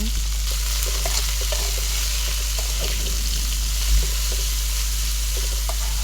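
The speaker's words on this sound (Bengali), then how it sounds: "ফুলকপিটা দিয়ে একটু নাড়িয়ে নেব কিছুক্ষণ।" Onion and cauliflower fry in a pan, a steady close sizzle with light stirring scrapes and clinks throughout, accompanied by a low constant hum and no talking.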